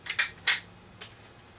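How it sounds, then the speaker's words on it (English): An FN FAL rifle's bolt being worked and locked open by hand: a few crisp metallic clicks and clacks close up, two quick ones, then a stronger one and a fainter final click. "This particular specimen is missing one small internal part which prevents that, but I can still lock the bolt open manually"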